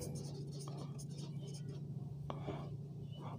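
A marker or chalk scratches across a classroom board in short strokes, close and quiet, over a steady low hum while a teacher speaks.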